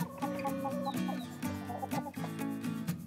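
Backyard chickens cluck repeatedly at close range in a busy, uneven rhythm with no talking over them.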